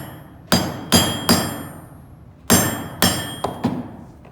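Snare support wire ends are cut off on a small anvil with sharp metallic strikes, seven of them in two irregular bursts, close and loud with quiet gaps between.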